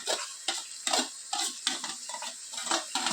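Cluster beans cooking in hot oil while being stirred in a pan, with repeated scraping strokes roughly every half second over a bright, close sizzle and no voices.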